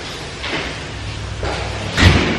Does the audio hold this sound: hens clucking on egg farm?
no